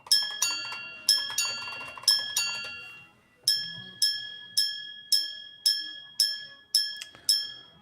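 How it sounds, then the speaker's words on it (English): A watch's chiming mechanism, its sound amplified by a vibrating plate, strikes a run of bright, clear metallic tones, quick and ringing, then after a short pause a second, evenly spaced series of single chimes, close and distinct. "This sound system enables this timepiece to resound at a volume significantly greater than a minute repeater equipped with the same movements"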